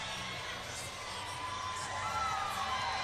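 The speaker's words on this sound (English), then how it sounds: "She wanted to make sure the crowd erupted on it" Gymnastics arena crowd at an Alabama at UCLA meet cheering in a steady sustained roar, mid-distance, with shouts and whoops rising slightly toward the end.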